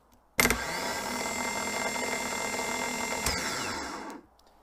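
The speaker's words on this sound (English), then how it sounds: "engaging both the solenoid and the starter motor" A 2005 Honda Pilot starter motor on a bench test starts with a sharp solenoid click, then gives a steady high-pitched electric whir for about four seconds before spinning down, close and loud.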